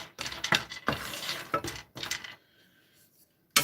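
Walnuts stirred in a pan: a series of close clattering, clinking strokes of nuts and utensil against metal in irregular bursts, then a quieter stretch before one last knock.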